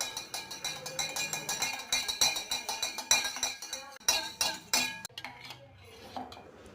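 A spoon stirs curd briskly in a bowl to make buttermilk, giving a rapid run of light metallic clinks and scrapes, close and steady, with no voices.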